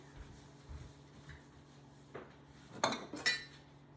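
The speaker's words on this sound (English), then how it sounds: "Mommy needs to get a knife quickly" Metal cutlery rattling and clinking as a knife is pulled out, soft shuffling at first, then a few sharper clinks toward the end, quiet and close in a kitchen.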